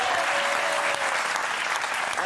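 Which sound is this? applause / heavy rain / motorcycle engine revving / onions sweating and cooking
applause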